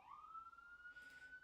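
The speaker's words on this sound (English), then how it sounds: "and there's a siren" A distant emergency siren wails as one steady, slowly rising tone, faint against a quiet background with no speech.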